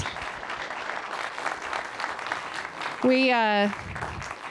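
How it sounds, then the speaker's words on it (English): An audience at a public health and safety community meeting in Denver applauds, a steady patter of clapping broken briefly near the end by a loud, rising whoop or whistle. "Could you guys give Ryan a round of applause, please?"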